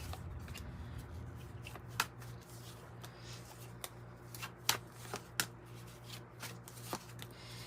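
Tarot and oracle cards, including a 108-card deck, are shuffled and drawn close up, giving a continuous soft riffling with several sharp card snaps, while a low hum runs underneath.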